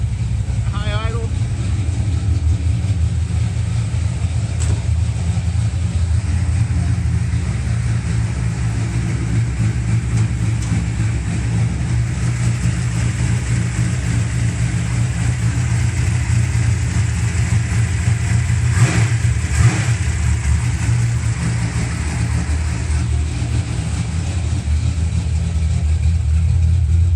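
A 1965 Dodge Coronet with a 493 big block stroker engine holding a high idle, a steady deep, loud rumble throughout, with someone speaking briefly over it.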